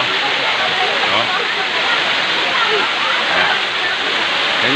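Daranak Falls in Tanay, Rizal roars as a steady, dense wash of falling water, loud and unbroken, with faint voices beneath it.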